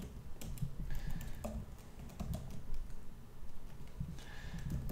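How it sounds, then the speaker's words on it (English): Quick bursts of keystrokes on a MacBook Air keyboard, irregular clusters of crisp clicks close by with short pauses between them, no voices. "now if I go back into Windows and I type in Excel"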